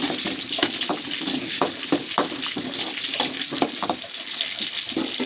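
Onions and dried red chillies frying in a pan for vaththa kuzhambu, with a steady close sizzle broken by repeated stirring scrapes and clinks, no voices.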